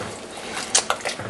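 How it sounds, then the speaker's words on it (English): Grits are stirred in a pot with a couple of brief, close, wet squishing sounds over a soft background hiss, with no voices. "Give it a little stir."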